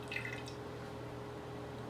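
Fat from bone broth being ladled into a fat separator, with soft liquid drips and trickles, faint and close, no talk.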